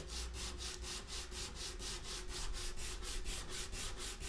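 Steady back-and-forth scraping of sandpaper on the wooden bridge of a bağlama, about four strokes per second, close and continuous with no voices.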